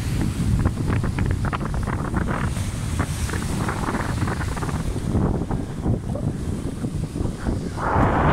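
Sea waves wash against a rocky shore at Mürefte, a steady rushing surge heavily buffeted by wind noise on the microphone, with no voices.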